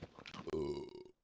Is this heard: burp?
yes